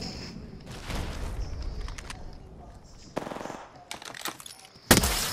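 Bursts of automatic weapon fire in the shooter game Apex Legends, several separate volleys with quieter gaps between them, sharp and fairly close, ending with a loud burst.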